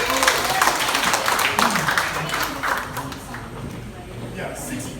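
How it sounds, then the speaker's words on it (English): A burst of audience applause, many hands clapping densely at moderate loudness, with a voice speaking over it. "Please clap for the round of applause."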